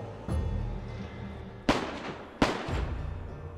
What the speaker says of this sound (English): The sound of gunfire was echoing through the entire town